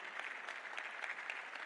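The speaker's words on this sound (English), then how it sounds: "you really want to clap that clap" Audience at a church leadership gathering clapping, a faint, steady patter of many hands over a short stretch.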